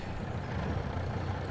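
A truck engine in a farming simulator game, a steady low rumble idling or driving at constant load, with no voices over it.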